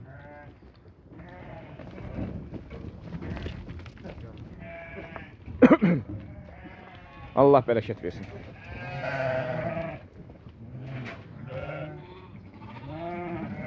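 A large flock of sheep and lambs bleating on a farm, several loud calls rising over steady nearby murmuring, with someone talking throughout.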